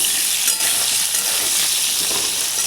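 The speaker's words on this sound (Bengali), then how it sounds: "আলুটা একটু ভেজে নেব।" Potatoes frying in a pan make a loud, dense, unbroken sizzle and hiss that holds steady from start to finish, with no talking.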